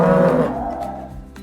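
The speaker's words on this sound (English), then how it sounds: "There's the mommy cow." A black-and-white mother cow on a farm lets out a single loud, close moo that fades over about a second, with no voices.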